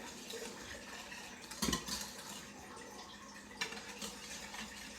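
A whisk stirring pancake batter made with warm milk and cinnamon in a bowl, giving a soft continuous swish with a couple of sharper metallic clinks against the side, close and fairly quiet.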